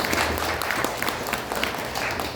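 A church congregation applauds at a New Year's first worship service, a steady wash of clapping heard from a roomful of people, continuous and fairly loud.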